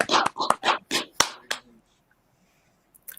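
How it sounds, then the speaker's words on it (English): A few people clap in a short burst, about eight or nine separate sharp claps close by that stop abruptly, followed by near silence. "Let's give ourselves a round of applause."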